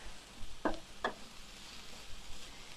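Peppers, onions and meat cook on a Blackstone griddle with a low steady sizzle, broken by two sharp spatula taps against the flat-top.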